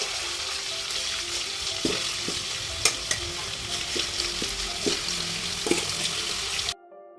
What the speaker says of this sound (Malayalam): ബാക്കിയുള്ള മീനും കൂടെ ഇതേപോലെ തന്നെ നമുക്ക് വറുത്ത് കോരാം